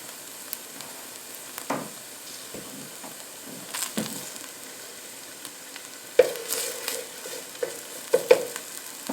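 Tomato paste frying on the bottom of a pot with vegetables, toasting for a meatball sauce: a low steady sizzle broken by scraping stirs and clinks of a spoon against the pot, close up with no talking.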